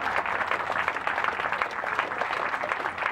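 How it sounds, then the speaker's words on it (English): Audience at a veterans ceremony keeps clapping steadily, a dense, even wash of many hands applauding at moderate loudness throughout. "You can just keep clapping while they come."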